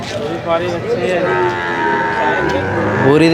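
Buffalo and cattle low and moo repeatedly amid a noisy crowd at the Erragadda buffalo market in Hyderabad, with people talking throughout in a busy outdoor setting.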